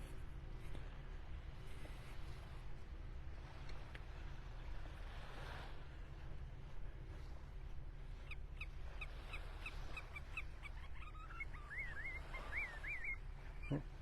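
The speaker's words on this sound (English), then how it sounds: "Somebody having a little conversation with me there. A willet bird down by the water." A willet calls repeatedly in quick, shrill notes from a distance, over steady surf and wind noise on Vanderbilt Beach, Florida.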